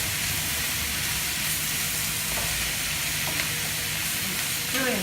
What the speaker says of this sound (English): And I'm gonna lightly roast them in a pan.